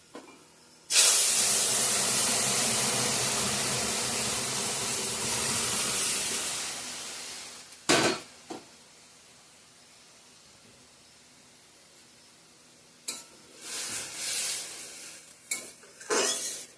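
Loud hissing sizzle as a tempering of bay leaf, onion, garlic and panch phoron hits masoor dal with shola kochu, fading gradually, followed by quieter stirring and clatter.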